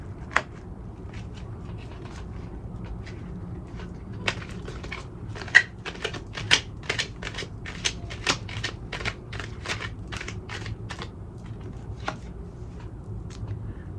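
Tarot cards being shuffled and drawn from a deck during a card reading, a series of crisp snapping and flicking clicks in irregular bursts, close and fairly quiet, with no voices.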